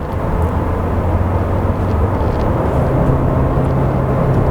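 The 1.4-litre petrol engine of an Opel Ampera runs with a steady, loud, rough drone and a low hum, continuous and unbroken throughout with no talking.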